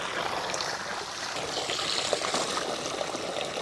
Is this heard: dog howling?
no